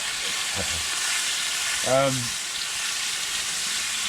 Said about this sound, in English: just loading up his frying pan with bacon.